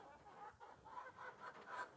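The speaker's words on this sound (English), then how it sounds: "And you can hear the chickens in the background." Chickens clucking faintly in the background at a West African outdoor kitchen where fufu is being prepared, soft repeated clucks over a low ambient hum.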